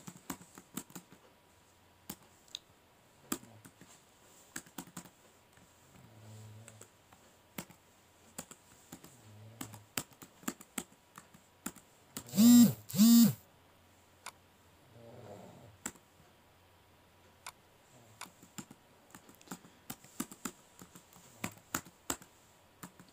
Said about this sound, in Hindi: इधर मैं अपनी ईमेल एड्रेस को टाइप करती हूँ